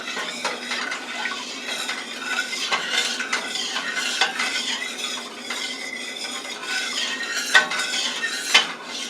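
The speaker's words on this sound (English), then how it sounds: "Let's stir that up" A spoon stirs a fruity sweet and sour glaze sauce in a pot, scraping and clinking against the metal in uneven strokes with a light bubbling sizzle underneath, close and fairly loud, with no voices.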